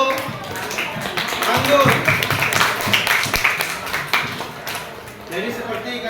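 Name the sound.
audience applause for a student presenter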